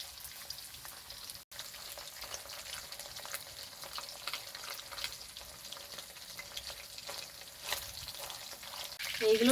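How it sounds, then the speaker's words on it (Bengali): Chicken pieces frying in a pan for chili chicken, a fairly quiet, even crackling sizzle with faint bubbling and a brief clatter near the end. "বাকি চিকেনগুলোকে আমি একইভাবে ভেজে নেব"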